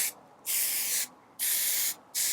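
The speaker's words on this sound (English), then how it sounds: "spray the bang." Three short bursts of hairspray hissing from an aerosol can, close and steady, separated by brief quiet gaps.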